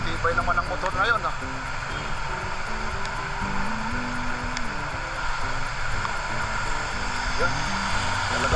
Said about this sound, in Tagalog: ang tibay naman ng motor na yun.